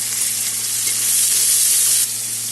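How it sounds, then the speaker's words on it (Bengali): Ginger and tomato frying in a pan while making vegetable dal, a steady close sizzle with bright hiss that holds throughout and dips slightly near the end. "আদাটা মোটামুটি ভাজা হবে, তারপরে দিয়ে দেবো টমেটো"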